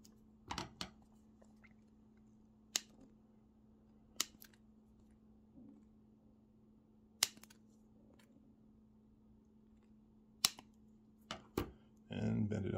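Snips of a hobby knife or cutters trimming a small plastic piece for a custom model car suspension, a handful of sharp isolated clicks spread over a quiet steady hum, close and fairly faint, ending in a short rustle.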